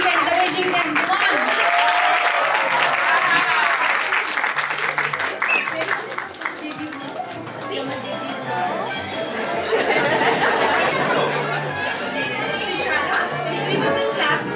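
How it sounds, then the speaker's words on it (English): An audience at a junior school annual day claps continuously while many voices chatter and children call out over it, lively and close. "Everyone will clap for you."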